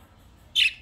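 A pet parakeet gives a single short, bright chirp, close and clear, over a quiet low background hum.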